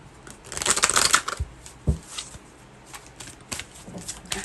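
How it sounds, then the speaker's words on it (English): A deck of tarot cards being shuffled close up, a crisp riffling burst early on followed by softer, intermittent card taps and slides. "One more shuffle."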